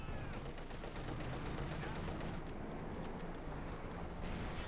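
Tank battle in the video game Company of Heroes 2, with a Panzer IV firing on a T-34. Dense, quiet gunfire and explosion noise crackles continuously throughout.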